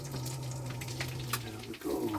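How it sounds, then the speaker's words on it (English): Faint, steady sizzling of eggs frying in a pan, with soft crackles and a low hum beneath. "Nice sizzle."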